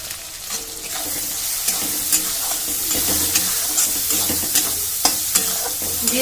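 Biryani masala fries in a pan for a rohu fish biryani, a loud continuous hiss with repeated light spatula scrapes and taps spread evenly through the sizzle.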